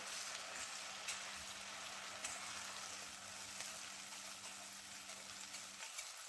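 Tomato and onion paste sautéing in a pan for hotel-style matar paneer, a faint, steady hiss and bubbling sizzle running evenly throughout with a low hum underneath.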